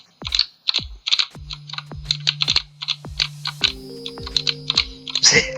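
Computer keyboard keys pressed rapidly while playing the game Rabi-Ribi, a steady run of sharp, close clicks and taps with some game tones sounding underneath.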